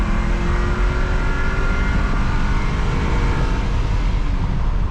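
A Chevrolet S-10 pickup with an LS V8 swap accelerates hard with its rear tire spinning, a loud, steady engine roar with tire noise holding from start to finish, with no pauses.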